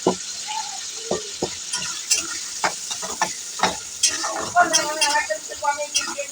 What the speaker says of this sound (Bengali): পেঁয়াজের মধ্যে আমি টমেটোটা দেবো, একসাথেই ভেজে নিচ্ছি